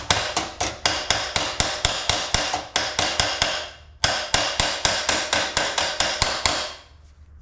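A hammer strikes sheet metal to flatten wrinkled spots beside a bead roller, in two fast, even runs of about a dozen sharp, loud blows each with a brief pause between, then quiet.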